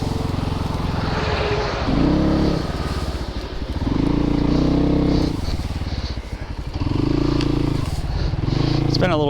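A Christini AWD 250DS all-wheel-drive dirt bike rides a trail with its engine buzzing loud and close throughout, revs rising and falling as it accelerates and eases off, with a voice talking over it.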